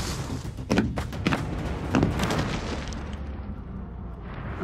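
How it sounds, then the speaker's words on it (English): Underground blast in a gold mine decline, rock broken with explosives: a series of heavy thuds and booming bursts in quick succession, loud and close, then a rumbling decay into quieter settling debris. "Fire in the hole!"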